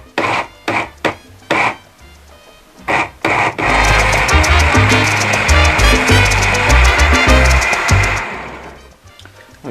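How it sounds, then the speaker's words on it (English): A blender purees peach, mango and Carolina Reaper hot sauce ingredients: a few short pulsing bursts, then a loud, steady whir for about five seconds that cuts off near the end. "All we got to do now is blend this up."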